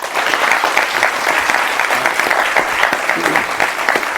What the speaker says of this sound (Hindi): आपकी ताली रुकनी नहीं चाहिए।